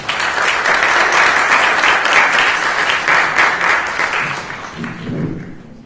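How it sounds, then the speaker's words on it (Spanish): Strong audience applause at an academic cultural event greets a speaker, a dense burst of clapping that holds steady and then tapers off, with a voice briefly emerging as it fades. "Un fuerte aplauso para el doctor Jesús Galindo."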